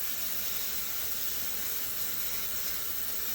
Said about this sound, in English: that carb cleaner is going to get rid of some gunk